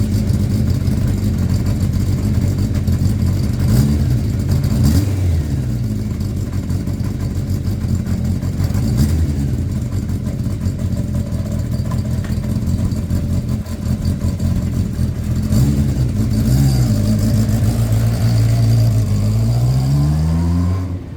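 A Kawasaki GPz 550 motorcycle engine runs throughout on a first ride, loud and close, with repeated revs that climb and fall between stretches of steady running.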